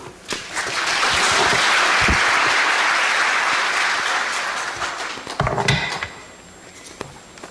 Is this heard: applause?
yes